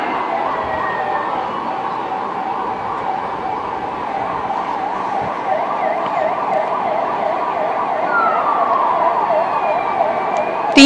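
Newly launched ambulances sound their sirens together, a loud continuous wailing up-and-down pattern over steady vehicle rumble, with a sharp burst at the very end.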